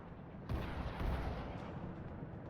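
A burst of rockets fires from a Comanche attack helicopter in the Comanche remake game, a dense rumbling roar with a sharper onset midway, sustained and moderately loud.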